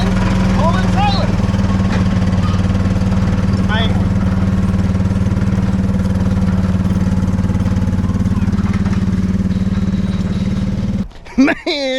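A 2003 Club Car DS golf cart engine, once seized, runs at a steady, close, loud idle with a humming drone while a person talks over it, and the sound cuts out abruptly near the end.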